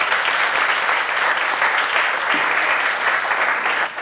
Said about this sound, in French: Sous vos applaudissements, Stéphane Rochard.